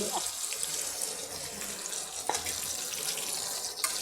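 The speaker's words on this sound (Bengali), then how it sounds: "ওই জলটাই আমি দিয়ে দিচ্ছি ফেলে" Water poured into a pan holding potatoes and pointed gourd for a vegetarian curry, a steady splashing wash with no talk over it.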